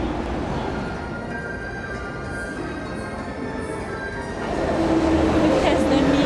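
Ride aboard a Disney-themed train heading to the resort at Hong Kong Disneyland, a steady low rumble of rolling wheels and carriage hum with a faint whine, growing slightly louder near the end, no clear speech.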